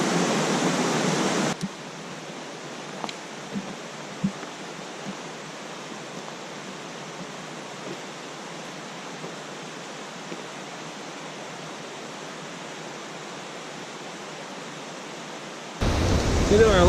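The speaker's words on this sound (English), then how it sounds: "Been hiking along this creek for a while." Steady broadband rush of Big Creek, a wide mountain stream in the Great Smoky Mountains, flowing continuously at an even level, with a brief louder burst of closer water noise at the start and end.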